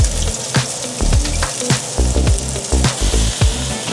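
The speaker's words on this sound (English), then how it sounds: "We're going to saute the onions first" Onions sautéing in a generous amount of oil over high heat for pork rib sinigang, a Filipino soup, give a steady close sizzle with repeated clinks and scrapes from stirring.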